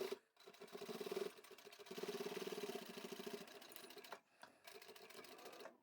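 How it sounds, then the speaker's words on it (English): A sewing machine stitches through thick, bulky fabric, a fast mechanical chatter running in bursts with short pauses between forward and back stitches, close and fairly quiet. "as I start sewing forward and doing a back stitch, the fabric's not going to go any further than that."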